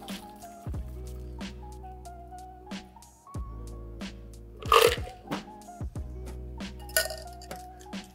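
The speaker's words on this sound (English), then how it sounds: "Now this one's strained over fresh ice into an old-fashioned glass" Whisky sour cocktail fine strained over fresh ice into an old-fashioned glass, with clinking ice, a crunchy pour burst near the middle and small drips and glass taps over steady background music.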